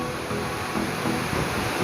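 Waterfall at the Lacolla tourist area in a village, heard as steady broadband rushing water that stays constant and fairly close throughout, with no voices.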